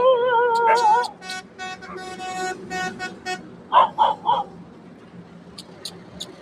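A truck horn sounds, then three short, sharp dog barks follow in quick succession on a roadside during a bicycle trip. A few faint high chirps come near the end.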